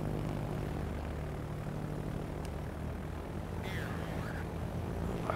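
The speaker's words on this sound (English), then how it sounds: "Launches his next set of planes." Carrier aircraft launching in the World of Warships naval game, a steady propeller-engine drone with rising whine, continuous and fairly loud throughout, with a brief sharper chirp near the end.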